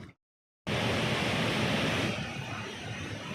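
Hogenakkal waterfalls on the Cauvery, a steady, loud broadband roar of rushing water that starts abruptly after a brief silent gap and continues unbroken, with no talk over it.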